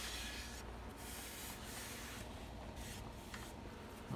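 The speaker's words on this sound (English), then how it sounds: "you just kind of finish it off with a little light sandpaper, 200 grit" Light hand-sanding with 200 grit sandpaper along the bearing edge of a 1960s Ludwig drum, a steady continuous scratchy rubbing close by with slight strokes, no talking.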